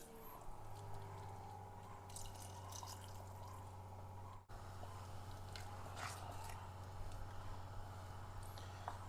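Faint liquid pouring and soft dripping as water and leftover masala go back into a mutton gravy in a kitchen, gentle wet squishes over a steady low hum.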